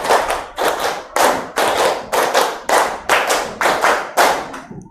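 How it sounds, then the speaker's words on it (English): Hand claps in bursts of about three, repeated steadily in a group rhythm, loud and close with short pauses between each burst. "Clap 5 3 times"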